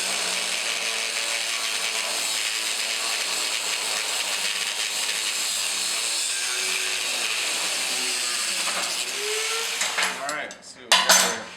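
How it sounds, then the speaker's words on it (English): Angle grinder cutting across angle iron, a loud continuous high-pitched grinding whine that holds steady, then stutters and cuts off near the end as the piece comes free. "we're going to cut across here with our angle grinder"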